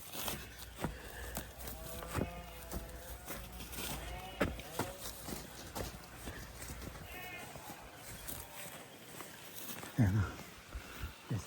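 Goats being led out to graze on grass before rain, with scattered bleats, hooves clopping on the ground and rustling nearby, while someone talks over much of it.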